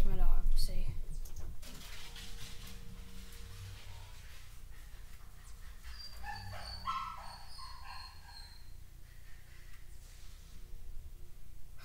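A dog in a baseball video game barks in a short cluster of quick yips, fairly faint under a person talking and game background sound.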